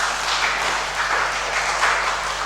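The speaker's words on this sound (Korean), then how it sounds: "여러분, 우리 찬양팀 위해서 박수 좀 합시다." A church congregation claps for the worship team, a fairly soft, even patter of many hands that swells slightly in waves over a low steady hum.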